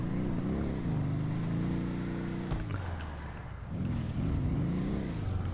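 A quad bike engine in GTA 5 revving hard with a rising and falling whine, dipping briefly mid-run before climbing again, steady and close with no voices.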